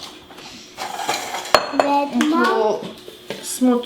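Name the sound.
mixing syrup with crumbs in a bowl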